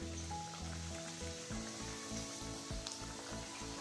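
Semolina karanji frying in oil, a soft continuous sizzle and fine bubbling under a low rhythmic pulsing hum, close and moderately quiet.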